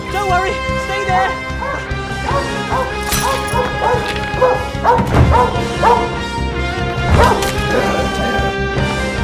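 A dog barks and yips in repeated bursts amid a busy musical scene from the 2019 film Cats, with crashes and other sounds, the barks mixed with orchestral tones rather than standing alone.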